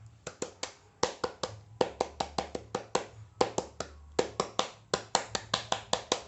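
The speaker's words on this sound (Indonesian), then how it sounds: "saya di sini akan mempraktikkan salah satu tepukan pada saat saya pernah mengikuti pramuka" Rhythmic Indonesian Scout clap (tepuk pramuka) by a single person, crisp close hand claps in patterned groups of quick beats with short pauses, about thirty claps, alone without talk.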